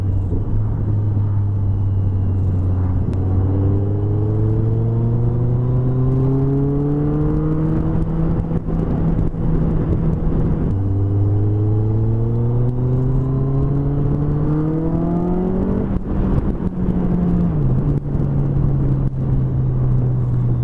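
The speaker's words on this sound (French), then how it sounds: "Ça marche toujours bien la 4S100 GT, hein, surtout à l'éthanol." Car engine of a 4S100 GT running on ethanol while driving: a loud close in-car drone that climbs in pitch through the gears, drops, and climbs again, with a steady rumble and whir.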